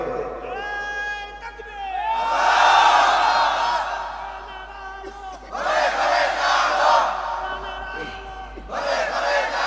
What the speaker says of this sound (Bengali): একজন তাকবীর দেন জোরে